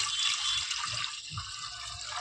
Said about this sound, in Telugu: ఇప్పుడు కొంచెం వాటర్ వేసేసుకుందాం.